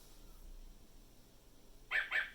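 A recorded dog bark from a VTech Touch and Learn Activity Desk toy, two quick bright yaps near the end after a quiet stretch.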